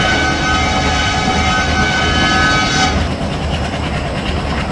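Simulated Indian express train in Train Simulator Railworks overtaking a MEMU train: steady, loud rolling rumble with a sustained horn-like tone that cuts out near the end, leaving the rumble alone.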